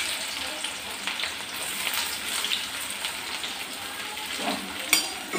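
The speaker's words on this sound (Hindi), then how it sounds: "और प्याज को लगभग हल्का सा सुनहरा होने तक भूनेंगे।" Onions fry in oil with fenugreek seeds for a ridge gourd sabzi, a soft, steady rain-like crackle close by with light stirring clicks and a sharper pop near the end.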